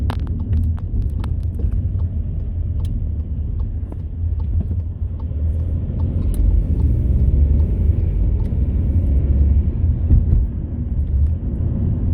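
An automatic car drives along a road from Dagenham toward London, a steady low engine and tyre rumble that swells slightly as it accelerates, with faint interior clicks.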